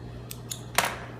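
Scissors snip fabric while trimming bias strips for sewing, three quick close cuts, the last one the loudest, over a steady low hum.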